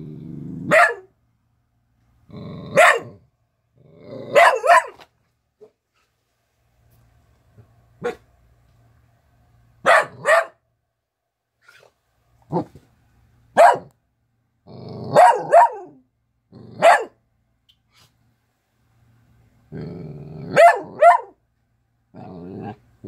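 An Italian Greyhound barks repeatedly up close, sharp loud single barks with gaps between them, some with a growly edge.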